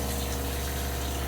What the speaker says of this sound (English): the vibration that you hear is just basically the pump that's pumping it.